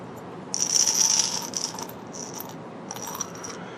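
Small screws, nuts and washers clink and rattle as they are handled, with a bright jingling burst near the start and quieter metallic shuffles later, close up with no talk.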